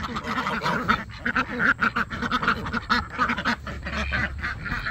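A flock of ducks quacks busily and continuously, many overlapping calls close by.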